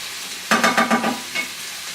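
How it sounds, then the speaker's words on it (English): Onions and minced meat frying in a pan for chilli, heard as a sudden run of loud sizzling bursts with a stirring rhythm that fades after about a second, then one smaller flare. "So all this meanwhile the onions and the meat have been cooking."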